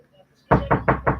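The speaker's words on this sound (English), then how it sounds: "David's got a knock at the door." Four loud, close knocks on a door in a quick, even sequence, following a near-silent start.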